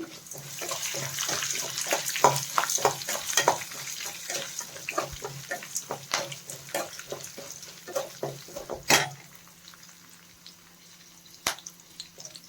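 Curry leaves crackle and spit in hot oil alongside chana dal and urad dal while a bitter gourd fry is started; dense irregular pops and snaps continue for about nine seconds, then thin out to a few scattered crackles, with no talking.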